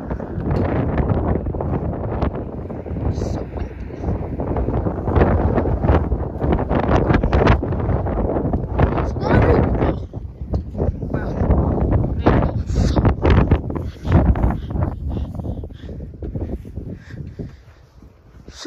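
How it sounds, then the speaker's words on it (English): Strong wind at Belmar Beach buffets the microphone in loud, rough gusts throughout, with a voice talking faintly underneath. "Still windy. Still the same windy it is."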